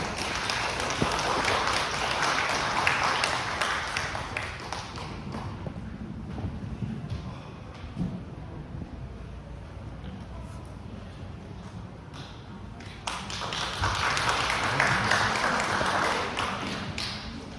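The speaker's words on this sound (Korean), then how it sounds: "큰 박수 부탁드리겠습니다" An audience at a redevelopment association's extraordinary general meeting applauds as the chairman is called to the stage, a dense sustained patter of many hands that eases in the middle and swells again near the end.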